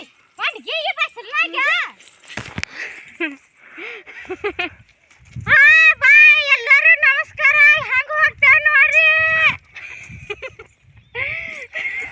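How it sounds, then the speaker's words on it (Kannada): Several sheep bleating loudly and close in a cotton field, quavering cries in repeated bursts with brief pauses, a few soft thuds between them. "ಹತ್ತಿ ಹೊಲ್ದಾಗ ಕುರಿ ಬಿಟ್ಟೀವಿ"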